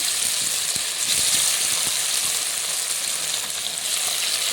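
Liver pieces frying in oil, a steady dense sizzle that crackles continuously at close range and fairly loud, with no talking.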